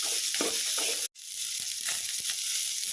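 Garlic cloves and dried red chillies sautéing in oil in a pan for a Tamil fish curry, a constant close sizzle with soft stirring scrapes, briefly cut by a short silent gap.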